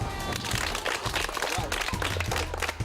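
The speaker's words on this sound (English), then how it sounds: "I think you should give yourselves a clap." A class of students in a fire prevention session clap for themselves, a loose scatter of hands over a busy room with some voices mixed in, fairly close and moderately loud.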